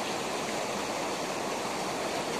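The Veshaw river in the Pir Panjal Range of Kashmir rushes in a steady, loud broadband roar of flowing stream and waterfall, continuous and close with no voices.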